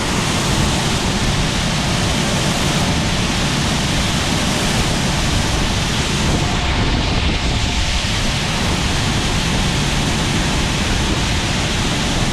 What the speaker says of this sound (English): It's pouring now.